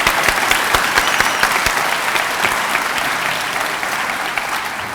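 A large audience at a medical school MD white coat ceremony for the class of 2024 applauds loudly. Dense, steady clapping fills the room throughout with no pause.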